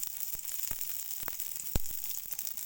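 Chopped onions fry in hot oil with a continuous close hiss and sizzle, broken by scattered pops and crackles, with no voices.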